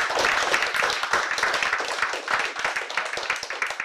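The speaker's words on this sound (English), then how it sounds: "A big round of applause." Audience round of applause at a live music event on Westgate Street in Gloucester, a steady crowd of hand claps with sharp individual claps standing out, continuing unbroken throughout.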